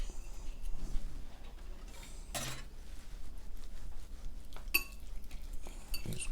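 A whisk works through a mixture in a bowl, giving irregular metallic clinks and taps against the sides with quiet gaps between strokes.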